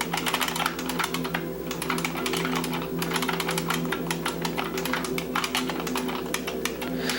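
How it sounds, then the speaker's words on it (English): Rapid, continuous clacking of keys on a computer keyboard, close and crisp, with uneven bursts and brief pauses throughout and no talking. "with this keyboard, I feel like I need to go slower and more methodical. Just because of the sound"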